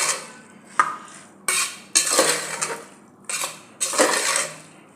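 A spoon stirs pav bhaji vegetables in a metal pressure cooker, scraping and clattering against the pot in several separate bursts, close and loud, with no one talking.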